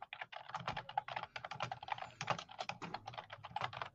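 Rapid, steady typing on a computer keyboard, close and dense, with clustered key clicks running continuously without pause.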